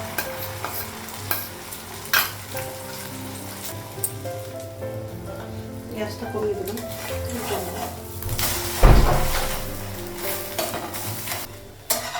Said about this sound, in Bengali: এটাতে ডিমটা ভাজবো